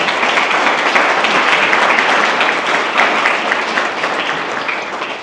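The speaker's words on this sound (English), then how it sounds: "Let's give her a round of applause as our board chair." An audience at a Make-A-Wish Utah foundation unveiling ceremony breaks into sustained, loud applause as a board chair is welcomed to the stage, dense clapping holding steady before slowly tapering off.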